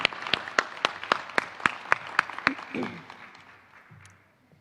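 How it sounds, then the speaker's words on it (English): Audience applause at a graduation ceremony for a teaching academy: a burst of rhythmic clapping with sharp, evenly spaced claps over a wash of hand noise, gradually fading away. "A big round of applause for our Health and Human Services Division."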